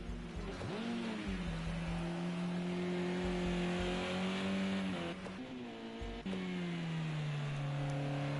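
Race car engines circuiting Oulton Park in a MEGA Sport UK round, revving high and shifting pitch as cars accelerate, with sharp gear changes near five and six seconds, loud and close with no talk.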